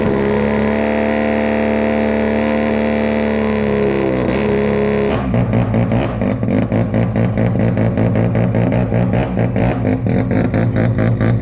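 A 500 whp Mazda RX-7 engine fires up outdoors after a starter whir, catching into a loud, choppy, pulsing idle that stays close and steady.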